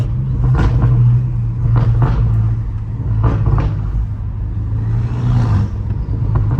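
The engine of a BMW M5 Competition drives through an old Los Angeles neighbourhood with a loud, constant low rumble. Bursts of turbo whoosh and revving rise above it, close up and heavy.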